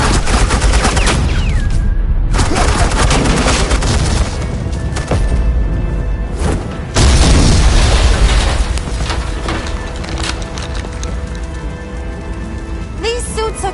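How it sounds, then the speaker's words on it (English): Suppressing gunfire in the video game Telltale Batman: The Enemy Within, a loud, dense, continuous barrage of shots and booms that runs for over ten seconds with brief dips. "Suppressing fire."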